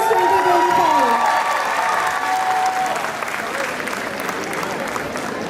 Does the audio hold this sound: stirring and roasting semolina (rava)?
no